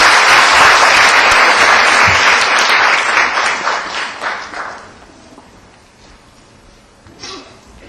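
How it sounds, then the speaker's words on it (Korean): Loud, sustained applause from an audience greeting the head judge at a debate competition final, dense at first, then thinning out and fading to a low murmur with a few scattered claps near the end. "박수로 맞아주시기 바랍니다."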